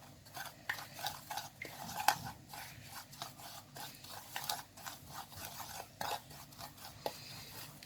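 A spoon stirring a spoonful of oil into fish curry in a pan, rhythmic scraping and scratching strokes against the metal at a steady pace, fairly quiet, with no talk.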